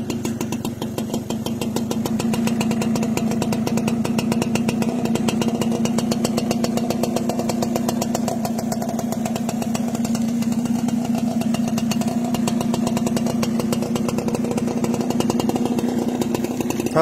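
Honda Cela 110 motorcycle in Thailand, hand-started, then idling steadily with a close, even mid-pitched engine putter that holds for the whole stretch.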